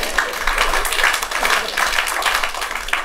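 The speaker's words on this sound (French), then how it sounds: "Bravo, acclamez pour vous-même." A church congregation claps and cheers during a French worship service, a steady, dense round of applause filling the room from start to finish.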